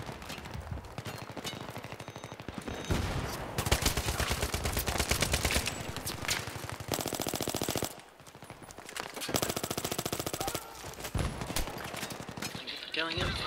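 Rapid automatic gunfire from Battlefield 3 team deathmatch combat, loud bursts of machine-gun fire with short pauses between volleys, dense and close, with voices faintly underneath.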